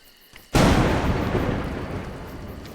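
Thunder cracks in the video game A Juggler's Tale. A sudden loud clap breaks out of near quiet and rolls into a long, slowly fading rumble mixed with rain-like hiss.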